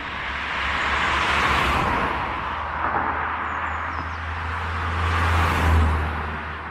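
Cars passing on the L35 road beside a forest path, a steady loud roar of traffic with swells as vehicles go by, the nearest pass building toward the end, no talk.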